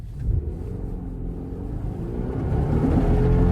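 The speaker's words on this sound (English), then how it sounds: "Let's do another acceleration, full throttle and then half throttle with traction control on." A 2024 Subaru Forester accelerates at full throttle in deep snow with traction control on, a low engine rumble building steadily louder as the wheels spin.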